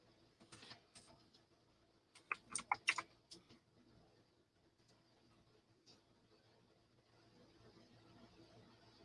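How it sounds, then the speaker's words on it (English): Keys tapped on a computer keyboard in a short cluster of quick clicks, close but quiet, over a low background hum with a soft bird coo nearby. "Let's type in Avocado Lake."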